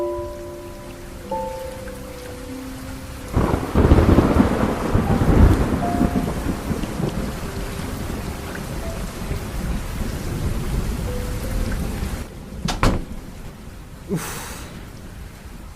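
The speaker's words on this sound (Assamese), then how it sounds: "ধুমুহা এজাক অহাৰ সম্ভাৱনাটো বেছি" A thunderstorm sound effect: steady rain on surfaces with a loud rolling thunder burst early on, sharper cracks later, and faint tonal background hum at the start.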